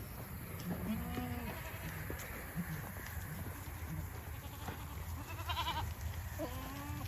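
Goats bleat in scattered short calls over a steady outdoor hum, several animals calling at moderate distance with gaps between cries.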